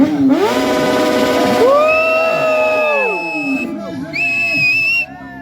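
A crowd at an auto carnival whistling loudly, with sustained shrill whistles rising and bending in pitch over a noisy, cheering mass of voices.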